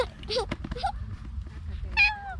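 A cat meows several times in a rural Thai home setting, with bright rising-and-falling cries near the start and a clearer, longer meow near the end, while people talk nearby and a low background hum runs underneath.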